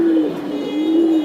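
A Giribaz pigeon, a silver pankhi bird, gives a steady low coo close by over a faint background hum, a single drawn-out throaty call with slight wavering.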